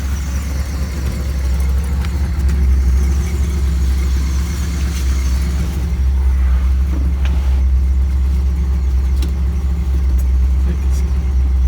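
A 1958 Edsel car engine runs steadily with a low, continuous rumble as the car begins to move, heard up close and without talk.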